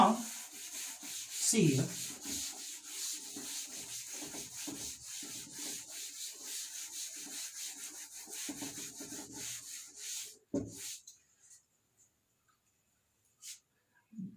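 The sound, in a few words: erasing writing from a board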